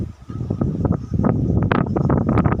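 Strong wind at a beach buffets the microphone in rough, uneven gusts, a loud rushing roar that rises and falls throughout.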